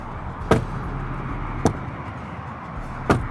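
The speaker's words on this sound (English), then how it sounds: "The doors themselves have a very nice closing thud, which is reminiscent of luxury cars." Door of a 2025 Freightliner Cascadia truck closing with a solid, damped thud, heard three times at spaced intervals, each a single short clean impact over quiet background.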